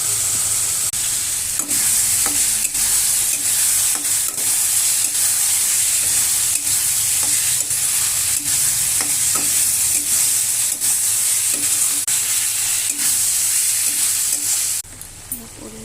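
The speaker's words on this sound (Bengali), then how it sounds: "এখানে আমি আলুটা দিয়ে কষবো।" Potatoes fry in spice masala in oil for a fish curry, giving a steady loud sizzle with the scrape of a stirring spoon throughout, no talking.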